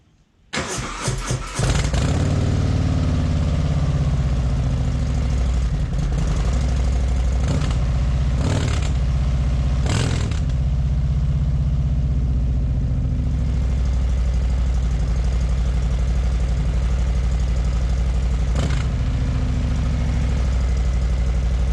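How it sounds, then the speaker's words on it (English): A 2018 Harley-Davidson Sport Glide FLSB with a Cobra 909 Tailgunner exhaust starts up and settles into a deep, loud, steady idle, with several short throttle blips breaking the rumble, close by and without talk. "This is what the TAILGUNNER sounds like."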